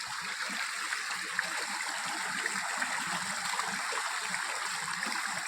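Water flows and trickles steadily at an outing spot, a soft continuous burbling wash that stays even and moderately faint throughout, with no voices.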